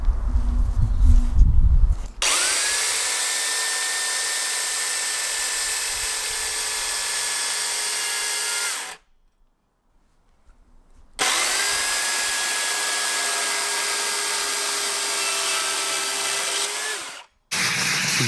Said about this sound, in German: deswegen schwenken wir jetzt zur Kettensäge um.